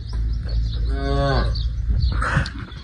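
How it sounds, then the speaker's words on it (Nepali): A single loud, drawn-out cow moo rises and falls in pitch, close by, over a low rumbling background. "पहिला गाई आएको छ, गाईलाई भागिहाल्नु।"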